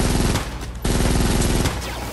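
Rapid machine gun fire rattles in the Fortnite Save the World video game, a loud dense stream of shots with a short break before the burst resumes.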